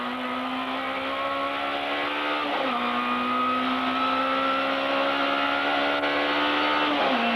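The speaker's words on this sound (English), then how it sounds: "You can hear how Roger Moan's working that engine on his Honda, really high revving, drops it down through the gears" A Honda saloon race car at Donington in the 1999 National Saloon Car Championship screams at high revs, its engine note steady and loud, with brief dips as it drops down through the gears.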